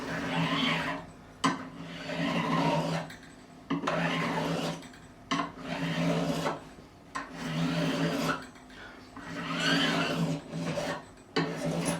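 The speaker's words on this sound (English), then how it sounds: "I know more by running a file down there." A flat-edged file rasps along the fretboard of a 1957 Hofner President guitar during a refret, in long rhythmic strokes with short pauses between them, close and steady, with no voices.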